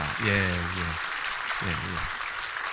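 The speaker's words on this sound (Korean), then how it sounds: "한번 좀 박수 한번 격려해 주시기를 바랍니다" A church congregation claps steadily to encourage a member returning after spinal surgery, a continuous wash of applause with someone speaking briefly over it.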